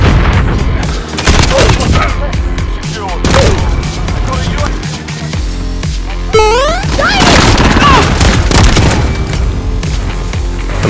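Rocket launcher fire and explosions in the Modern Warfare video game. Loud, close blasts and bursts of gunfire follow one another in rapid succession, with voices talking between them.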